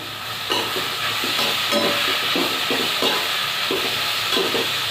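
Bitter gourd bhaji is stirred in a sizzling pan, steady loud frying hiss broken by repeated scraping strokes of a spoon at a regular rhythm, close up with no talking.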